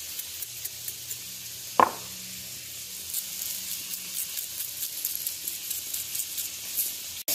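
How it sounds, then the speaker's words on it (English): A porterhouse steak sears on a stovetop, giving a steady close hiss of sizzling fat with crackles and one sharp clatter early on, no speech. "I'm searing the steak. So it's on the stove"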